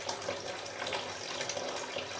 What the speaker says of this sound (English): what we're trying to do here is to fill up this 11 liters bucket of water